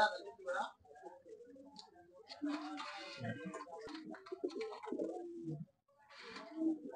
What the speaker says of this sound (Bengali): এটা কি জাতের কবুতর ভাই? এটা আপনার আউল শার্টিং।